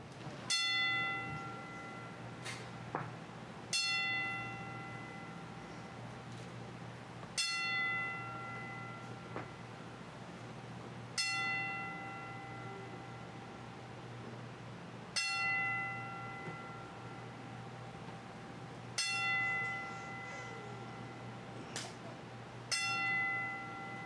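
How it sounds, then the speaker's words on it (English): A church bell tolls slowly in memory of a departed friend, ringing at even intervals of about four seconds over a low steady hum, each stroke bright and ringing before fading into the next. "as we toll the bell 10 times in memory of our dear friend, Scott Island."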